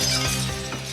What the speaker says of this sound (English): So the practiced professional can use amplification to smash glass.